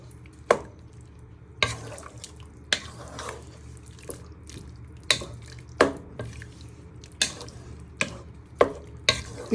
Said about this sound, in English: You give that a little bit of a stir to get any little bits off the bottom of your pan.